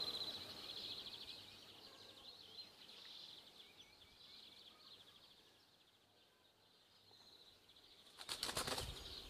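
Quiet outdoor ambience at a woodland nesting site with faint, high, continuous bird chirping, then a sudden close burst of flapping wings from a young wild pigeon near the end.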